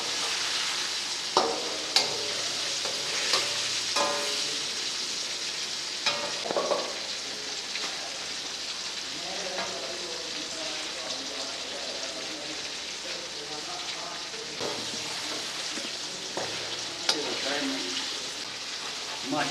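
Chicken sizzles steadily in a karahi for a Peshawar-style charsi karahi, with a spoon scraping and stirring in repeated bursts; a voice talks intermittently over the frying.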